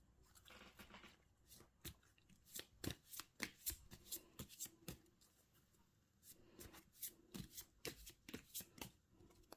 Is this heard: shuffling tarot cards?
yes